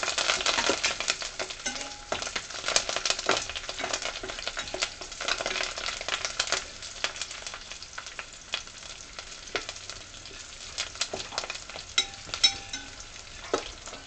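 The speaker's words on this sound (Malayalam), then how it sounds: "ഇനി ഇതിലേക്ക് നമുക്ക് കറിവേപ്പില ആഡ് ചെയ്യാം" Curry leaves and golden garlic sizzle steadily in hot oil in a Kerala-style amla pickle preparation, a dense crackling hiss with frequent sharp pops throughout, fairly close and alone.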